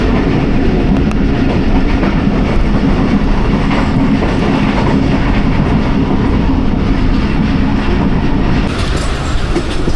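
A train runs through a railway station without stopping near Lala Musa Junction, a loud continuous rumble with rhythmic clickety-clack of wheels over rail joints and a faint squeal near the end.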